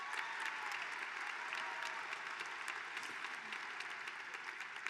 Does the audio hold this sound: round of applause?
yes